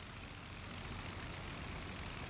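Fokker D.VII biplane engine from the flight sim Rise of Flight, a steady low droning rumble running unbroken and fairly faint throughout, with no voices over it.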